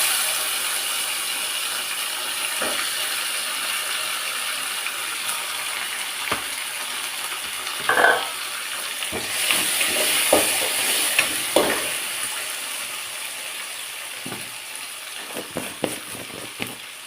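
Sliced tomatoes frying in a pan for a toor-dal and brinjal sambar, a steady hiss with scattered scraping and clinking stirring strokes from a spoon against the pan, close and moderately loud, no talking.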